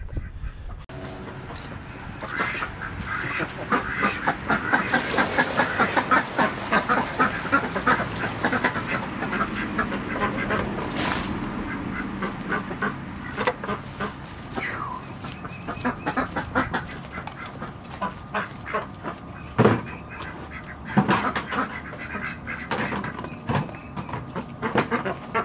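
Ducks quack repeatedly and loudly during morning chores, overlapping calls in irregular bursts close by across the whole stretch, with no talking.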